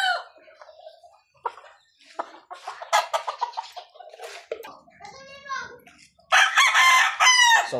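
A four-month-old Super Brown Red crossed with High Action gamefowl rooster crows loudly and close, a drawn-out call near the end, with someone talking and clucking hens before it.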